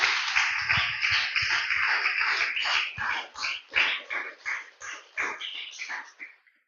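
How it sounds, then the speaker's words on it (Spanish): A church congregation claps loudly and steadily for several seconds, the applause breaking into uneven bursts and tapering off near the close. "Déselo fuerte el aplauso una vez más"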